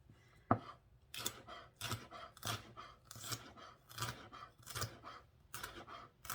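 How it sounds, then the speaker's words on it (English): A knife chops pico de gallo ingredients on a cutting board in a run of about ten quick, regular, crisp taps close by, starting with one sharper knock. "just run your knife through it again, just to chop it up even more."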